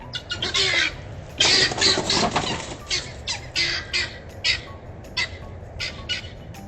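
Guinea fowl squawking in repeated harsh, loud bursts while escaping a hawk attack, a dense flurry of calls in the first half thinning to shorter separate squawks, caught outdoors on a surveillance camera.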